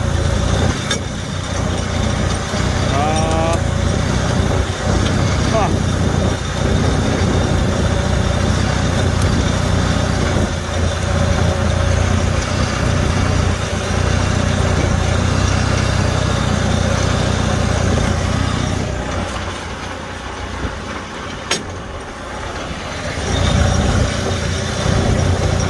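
A Farmall tractor engine runs steadily and loudly while mowing thick burdock, a continuous close engine drone that dips briefly near the end before picking up again, with no talk.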